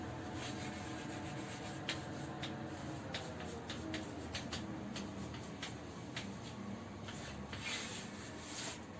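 Marker or chalk scratches across a board during a maths lesson, producing faint, short, irregular strokes and taps over a quiet room background.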